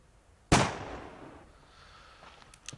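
A single sharp rifle shot from target practice in the survival game Subsistence, a loud crack followed by a decaying echo tail, then a couple of faint clicks near the end.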